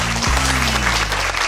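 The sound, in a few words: audience applause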